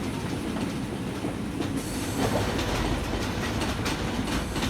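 The Tista Express intercity train rumbles along the rails on the Dhaka to Joydebpur run, with a steady clickety-clack of wheels and faint squeals, heard from on board. The roar is constant and broadband, with no talk.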